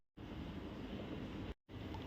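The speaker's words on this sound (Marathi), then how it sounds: "चला पाण्याला उकळी आली आहे" Water comes to a rolling boil in a cooking pot, ready for potato wafers. A steady, close, rushing bubble runs through the clip and cuts out briefly twice.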